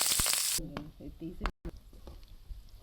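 Green chillies and peanuts fry in hot oil for dadojanam tempering, opening with a loud bright sizzle that drops to softer crackling and stirring clatter, with a brief voice in the middle.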